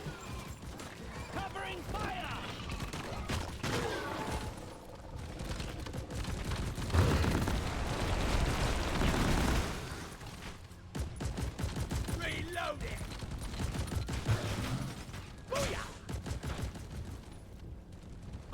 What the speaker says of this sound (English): That's just Mark II turret just doing its thing.